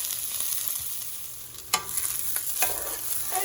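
Onions sauté slowly in butter over medium heat, a steady soft sizzle with a couple of sharper scraping stir sounds partway through, close up and without voices.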